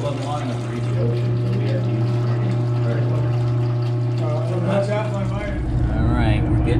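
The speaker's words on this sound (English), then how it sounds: "we're getting down to the last of the water that's coming out of that heat exchanger there" Water draining out of a ship's main engine heat exchanger aboard the destroyer escort SLATER, a steady close rush of flowing water under a strong continuous machinery hum that drops off near the end, with voices talking over it.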